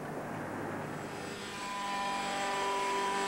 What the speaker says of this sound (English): The pilot uses two joysticks to fly the helicopter.